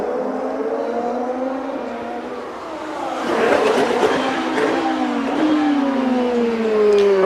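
Champ Car race cars scream past on the Toronto street circuit, engine notes rising and falling in pitch as several cars whine by in succession, loud and close with a surge in the middle.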